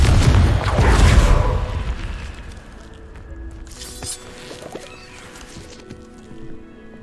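An explosive blast spell cast in the Hogwarts Legacy video game, a loud booming burst at the start that rumbles and fades over a few seconds, followed by quieter scattered game sounds and faint clatter.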